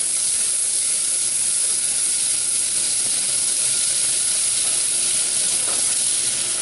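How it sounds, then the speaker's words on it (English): Butter melting in a pan over a medium-high burner, giving a loud, steady hiss and sizzle that runs unbroken throughout, with no voices. "we're gonna go ahead and throw the butter in here and melt it down"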